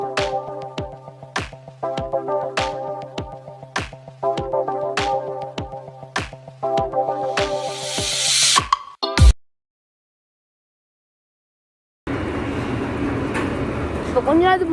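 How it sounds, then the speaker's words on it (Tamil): A Chennai Egmore to Puducherry MEMU train pulls out of platform 1 with a steady motor hum and regular rhythmic wheel clicks. A sudden cutoff is followed by a rougher, noisier rumble. "பிளாட்ஃபார்ம் நம்பர் 1லேருந்து பாண்டிச்சேரிக்கு இப்போ இந்த ட்ரெயின் போகுது"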